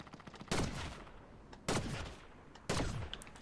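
Three loud gunshots from the video game Fortnite, each a sharp blast with a ringing tail, spaced about a second apart over a low background hum.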